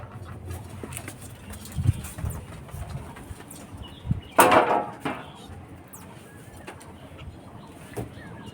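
Pigeons in a loft give soft, low murmuring coos throughout, with a brief louder flurry of sound midway through.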